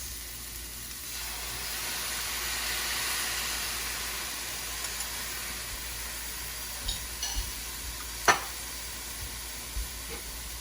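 Sauce is poured into pansit noodles cooking in a pan with onions and bell pepper, producing a rising hiss and steady sizzle, then a few sharp scrapes and clinks of stirring, close and fairly soft with no talk.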